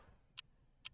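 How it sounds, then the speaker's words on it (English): A clock-ticking sound effect gives two crisp, evenly spaced ticks about half a second apart, sharp and clear over faint low background noise. "We have a clock ticking sound."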